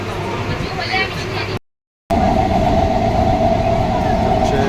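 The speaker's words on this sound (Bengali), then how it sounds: "এখন ট্রেন ছেড়ে দিয়েছে, তাড়াতাড়ি এই জায়গায় পৌঁছে যাবো।" A train moves along the line toward Mayapur with a steady, loud rumble and rattle, briefly cut out partway through before resuming, and voices murmur in the background.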